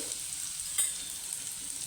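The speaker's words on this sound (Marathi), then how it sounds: "तेल गरम झालं हे वाटलेली मिरची आणि जिरं त्याच्यामध्ये टाकून घ्यायचं" Ground green chilli and cumin dropped into hot oil, a soft continuous frying hiss with a brief sharper crackle near the middle, close and fairly quiet, no voices.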